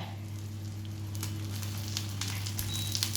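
An omelette frying in a little oil, a steady close sizzle with faint crackles and pops, heard alone over a low kitchen hum.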